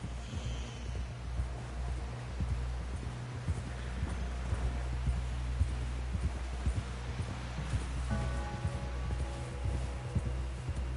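Horse hooves clip-clop at a steady walking rhythm, moderately quiet and close, continuing throughout with faint rustling in the background.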